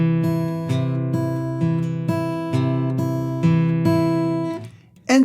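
Fingerstyle guitar picking a chord while the thumb alternates bass notes between the 5th and 4th strings, an even, unhurried pattern of plucked notes ringing together, close and alone.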